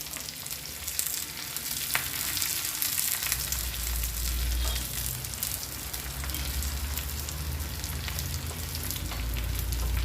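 Shallots, green chilies and curry leaves sizzle and crackle loudly in hot tempering oil for a beetroot pachadi, a continuous dense frying hiss with occasional pops and stirring.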